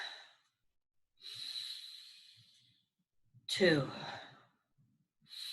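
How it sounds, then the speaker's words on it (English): Slow, deep breaths are taken during a counted breathing exercise. Long, airy exhales and inhales sit close to the microphone, separated by silent pauses, with a soft voice counting between them. "we're going to breathe, counting our breaths from 1 to 21."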